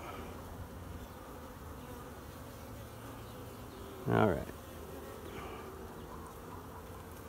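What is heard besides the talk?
honey bees buzzing around an open hive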